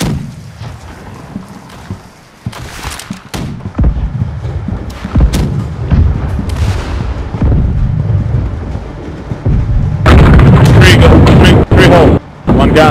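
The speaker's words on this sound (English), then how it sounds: "Prepare left cannon, guys." Ship cannons fire in the naval combat game Blackwake, giving several heavy booms and thuds among the clatter of battle, with players talking over the action.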